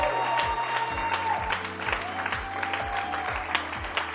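An audience applauds and cheers at a leadership talk, a steady dense wash of clapping that stays loud and even throughout without letting up.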